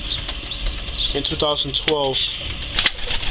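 Pigeons in a loft coo softly in short rhythmic bursts. Birds shuffle and flap nearby while someone talks over them, and a steady background hum continues throughout.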